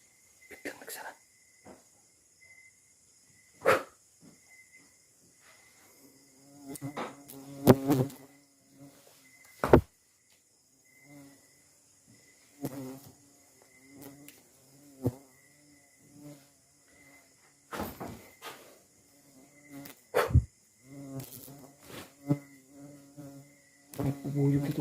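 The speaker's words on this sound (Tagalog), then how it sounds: "May bubuyog dito guys oh." A bee buzzing indoors inside a house, heard in scattered faint bursts that come and go among sharp knocks and rustles, with quiet stretches between.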